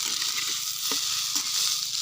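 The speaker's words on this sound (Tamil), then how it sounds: "அதுக்கு தான் அப்படியே லைட்டாக வறுத்துட்டு அப்புறம் காய வச்சுக்கலான்ட்டு" Flying termites fry lightly in a pan with a steady, close sizzle, broken by a couple of brief scrapes as they are stirred, no voices.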